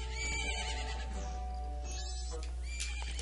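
A horse in the video game The Legend of Zelda: Majora's Mask whinnies and neighs with a shaky, rising cry over a steady low hum and background music.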